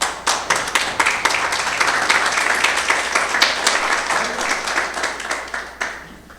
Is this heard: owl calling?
no